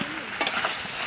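Fried potatoes are dropped into chicken cooking in a pan, giving a brief clattering thump and a flare of sizzle over a steady background hiss of frying.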